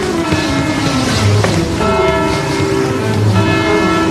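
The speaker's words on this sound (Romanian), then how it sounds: "oprește clopotul!" A large church bell rings out in a town, loud and close, its sustained tonal hum swelling with a second strike midway, alone without talk.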